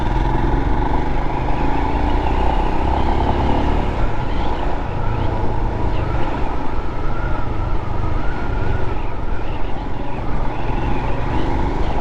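A Royal Enfield Himalayan motorcycle on a test ride gives a constant, loud, dense engine and wind roar with no break or change across the whole stretch.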